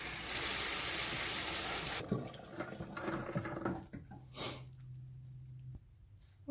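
Canned beans are rinsed under a running kitchen tap, a steady rush of water for about two seconds, then it cuts off and gives way to quieter clatter and handling sounds in the sink.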